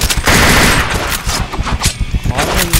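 AN94 assault rifle fire in a shooting video game, rapid loud bursts of shots hammering almost continuously, with a voice speaking over part of it.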